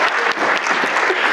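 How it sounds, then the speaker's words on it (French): An audience at a stock-market technical analysis trade fair claps for Myriam, a brief dense burst of applause from a room full of people. "On applaudit Myriam."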